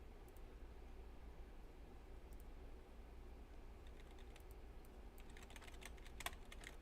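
Faint, rapid keystrokes on a computer keyboard at a desk while designing in FreeCAD, sparse at first, then thickening into a brisk burst of clicks over a steady low hum.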